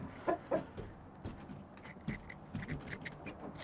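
A rooster named Poppy gives a few short clucks near the start, with soft scattered clucking and barnyard shuffling following at low volume.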